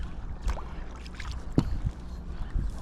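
A kayak paddled with one hand on a small lake makes soft splashes and dripping strokes, with a brief louder dip and gentle gurgling water throughout, close and quiet.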